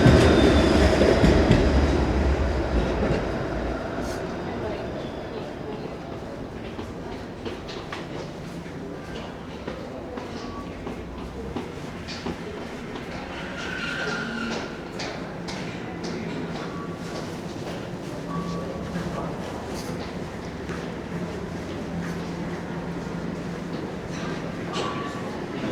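A Toronto subway train at St. Andrew Station rumbling steadily through the platform, with wheel clatter and occasional faint squeals over a broad roar while a voice speaks.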